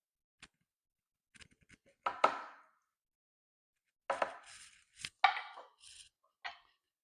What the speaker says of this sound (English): to remove the pit, you can just tap it with a knife